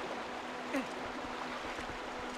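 Flowing water in The Legend of Zelda: Twilight Princess, a soft, steady rushing stream heard alone at low volume with a few faint clicks on top.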